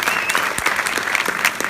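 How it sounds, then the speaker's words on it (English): A movie-screening audience at a Miami Q&A applauds with loud, dense clapping that fills the room, alongside a faint whistle or cheer. "Give him a round of applause for that one right there."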